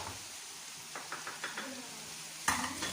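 Garlic-ginger paste and spices sizzle in a hot pan for a minced meat and okra dish, a steady close frying hiss with soft stirring scrapes and a sharper knock of a utensil near the end.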